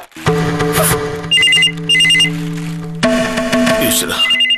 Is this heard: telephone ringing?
yes